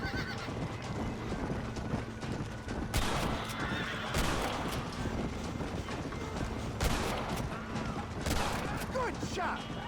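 Horses gallop with rapid clip-clop hooves and occasional whinnies in Red Dead Redemption, the Western game, mixed with gunfire bursts and voices talking over the action.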